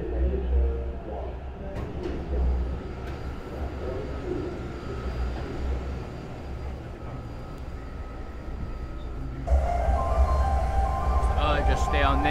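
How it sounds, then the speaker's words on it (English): A Taipei Metro MRT train rumbles into an underground station on the orange line, a steady low roar building with a brighter screech and rise near the end; people talk over it. "So the train should be coming down here now."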